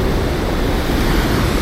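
Rushing water from a waterfall in Yorkshire near Huddersfield makes a loud, steady roar that runs unbroken and close throughout.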